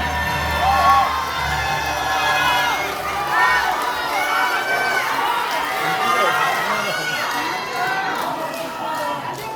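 A crowd at a Democratic Party provincial members' convention and joint candidate speech event welcomes a candidate with cheering and shouting, a loud sustained roar with voices rising over it.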